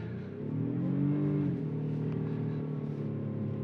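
A 2024 Honda Pilot Trailsport engine revs hard on a snowy mountain road, a steady mid-pitched drone rising briefly then holding as the SUV pushes for traction, heard from inside the cabin at moderate level.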